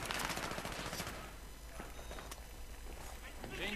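AUG A3 rifle fire in Battlefield 3 comes as quick, clipped automatic bursts, fairly quiet, with heavier shooting at the start and scattered shots after.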